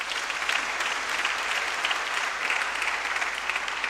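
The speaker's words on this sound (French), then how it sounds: "Vous pouvez acclamer le Père." A church congregation applauds a priest celebrating many years of ordination, with steady, dense clapping from a crowd throughout, near and fairly loud, with no break in the applause.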